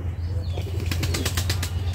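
Pigeons flapping their wings near a lychee tree outdoors, a quick run of rhythmic wingbeats that starts partway through and stays fairly close, over a steady low background hum.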